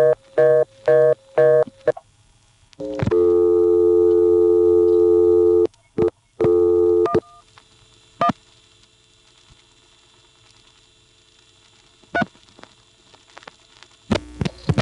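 Reorder tone on a 1976 NX1 crossbar telephone exchange, a loud, steady buzzing tone pulsing on and off in short repeated bursts with longer stretches, amid mechanical clicks and a faint background hum.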